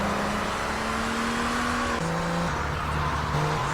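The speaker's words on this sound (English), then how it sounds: "The Infernus is the fastest car in the game." An Infernus sports car from Grand Theft Auto III drives at steady speed, its engine a continuous loud drone whose pitch holds, then drops as it shifts around the midpoint, with no talking.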